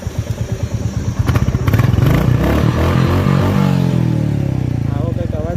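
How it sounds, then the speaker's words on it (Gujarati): A Royal Enfield Bullet motorcycle engine runs close by with a steady thumping idle, then the exhaust swells louder as it is revved, the pulsing beat continuing to the end; a voice speaks briefly at one point. "આપણને ટેસ્ટ રાઇડ માટે આ બુલેટ આપ્યું છે."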